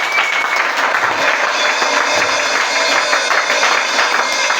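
A church congregation loudly applauding and cheering for the Lord, a dense, sustained wash of clapping with steady rhythmic pulses and no pauses.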